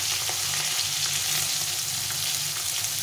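Fish sizzling steadily as it fries in a pan, a dense continuous crackle and hiss held close up without any voices.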